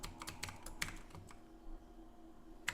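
Typing on a computer keyboard during a UP Police computer operator typing test, with steady clicking keystrokes, a few sharper louder taps standing out, and no voices.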